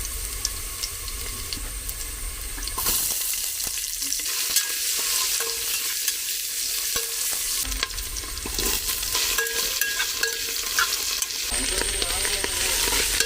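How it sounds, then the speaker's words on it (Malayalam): Steady hissing and crackling of mustard seeds frying in hot oil, with intermittent stirring clatter and a brief quieter gap early on. "ആദ്യം കടുക് വറുത്ത് എല്ലാ സംഭവമായിട്ട് വഴറ്റി"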